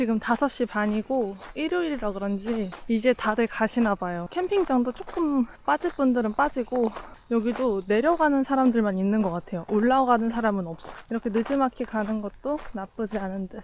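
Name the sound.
cicadas chirping on a summer evening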